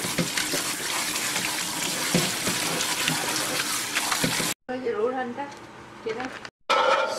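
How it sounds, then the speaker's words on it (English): Cold tap water runs steadily over noodles being rinsed in a kitchen sink, a loud continuous splashing rush that briefly cuts out and changes tone near the end. "rinse the noodles with the cold water."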